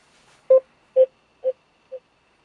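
An incoming phone call rings through a Ford Sync in-car system as four short, evenly spaced tonal beeps about half a second apart, clean and fading slightly in loudness.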